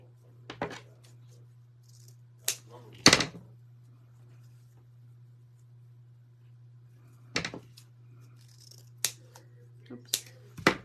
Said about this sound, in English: All right, so I'll cut the little tails.